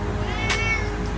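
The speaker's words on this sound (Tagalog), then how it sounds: "Ito mga pusa ay lumabas." A cat gives a single short, clear meow at close range during a move into a tiny house, heard over a steady background hum.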